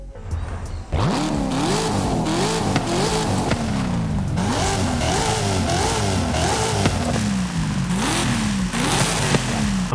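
A Cadillac CT5-V Blackwing V8 in Forza Horizon 5 revs repeatedly through its exhaust, with loud, rising and falling engine sweeps following one another in a steady rhythm, and no talk over them.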